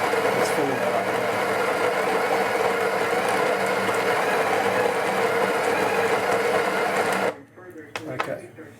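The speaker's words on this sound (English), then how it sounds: "First time the grinder's been used, so it's a little bit slow, but it's certainly it's filling that up now" A Breville Barista Express grinder grinds coffee beans on its first use, a loud steady whirring buzz up close that runs for about seven seconds and then cuts off abruptly.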